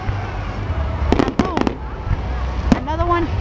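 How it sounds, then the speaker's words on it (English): Fireworks at a fireworks park burst in a few loud crackling volleys, the later ones trailing whistling tones, while excited voices exclaim over them. "That's fireworks so incredible."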